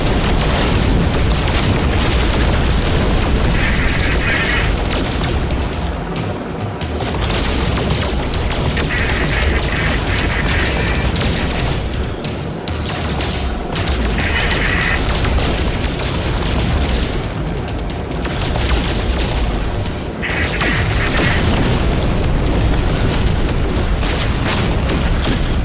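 Gunfire and explosions from the video game No Man's Sky, a dense, loud barrage of blasts and booms that continues almost without a break, with no talking.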